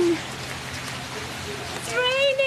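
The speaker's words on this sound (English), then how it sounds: "Kayden, this is going to rain" Rain falling outdoors makes a steady, soft hiss throughout the short moment, fairly close, while a voice and an adult's voice are heard toward the end.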